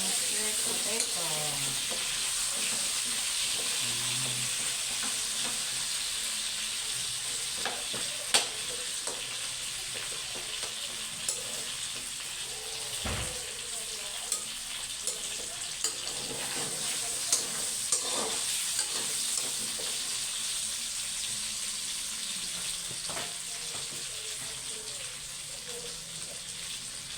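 Sweet potato fries in hot oil in a pan, giving a steady close sizzle with occasional stirring clatters and soft scrapes for nearly half a minute.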